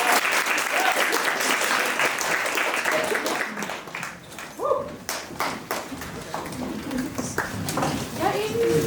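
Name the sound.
audience applause welcoming actresses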